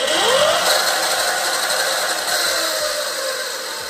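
A Tuttio Soleil 01 e-bike motor converted to a 72V battery runs on mode one, giving a steady high-pitched electric whine with a faint mechanical whir that rises briefly at the start and then holds level, close by, with no talking.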